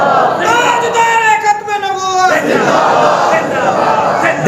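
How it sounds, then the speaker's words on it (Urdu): A large crowd at a religious gathering chants a slogan in unison, loud sustained voiced cries rising together, then breaking into a roaring cheer, with one lead voice prompting between the shouts. "دیکھیں یہ نعرہ کس نے بلند کروایا؟"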